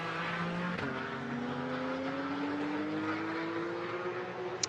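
A yellow Porsche Cayman GT4 race car roars around the Zandvoort circuit during a sprint race, its engine a steady, rising drone that climbs in pitch as it passes, with other race cars droning behind it.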